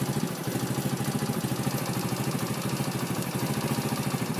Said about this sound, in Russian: Завел мопед.